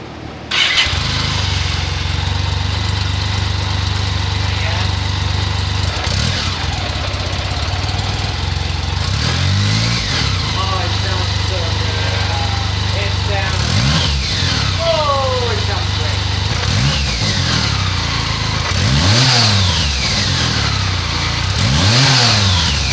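BMW K75RT motorcycle engine starting after injector cleaning, then running loudly and close with a steady idle broken by several rising-and-falling revs; a voice speaks partway through.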